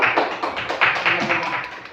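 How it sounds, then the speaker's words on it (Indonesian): Applause from an audience of teachers at a school discussion session, a moderately loud wash of clapping that swells and fades slightly over a couple of seconds. "Tepuk tangan dulu."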